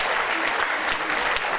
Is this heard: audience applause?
yes